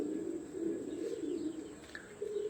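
Pigeons on a rooftop loft in Sialkot coo softly and repeatedly, a low rolling murmur with a faint chirp or two near the end, heard up close without talking.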